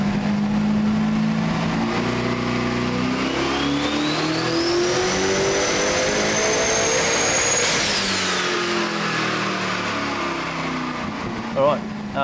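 A car engine runs loaded on a dyno during a first shakedown pull off the wastegate actuator with no boost control, a steady loud drone rising in pitch through the middle and dropping back near the end.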